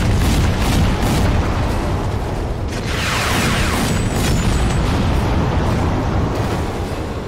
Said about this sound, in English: All these explosions.